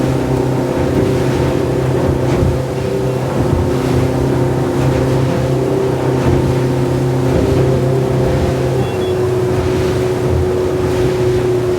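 A Surtees 670 Game Fisher motorboat engine drones steadily and loudly throughout at sea, with a constant low hum and wind and water noise around it.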